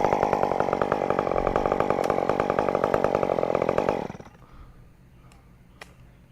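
A chainsaw cuts tree branches during a climb, buzzing loud and steady with a rhythmic pulse for about four seconds before stopping abruptly, leaving faint ambient sounds and a couple of small clicks.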